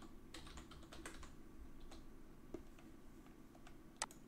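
Computer keyboard typing at a desk, fairly quiet and close, with a steady patter of light key clicks and a couple of sharper taps, no talking.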